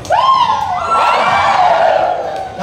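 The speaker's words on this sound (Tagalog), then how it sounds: "Sumigaw kayo, sabi nyo." A large crowd at an outdoor religious gathering in Baseco, Tondo, Manila shouts and cheers loudly in one sustained, rising roar with high voices rising above it.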